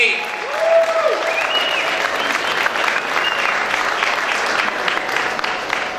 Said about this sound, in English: let's give John a round of applause for his faith in Paterson